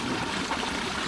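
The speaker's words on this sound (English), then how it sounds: "Just listen to the sound of that water." Steady broadband rush of a flowing stream, continuous and fairly close, with no voices over it.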